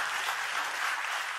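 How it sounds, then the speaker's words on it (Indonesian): Church congregation claps during a service, a short, dense burst of many hands at moderate level with no talking. "tepuk tangan buat Tuhan Yesus"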